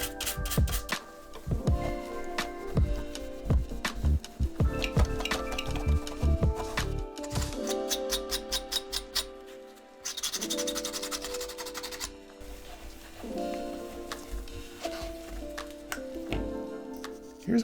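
A dirt-caked, flood-damaged PS3 shell is scrubbed clean by hand, with repeated scratchy brushing strokes and occasional small clinks over a steady tonal background.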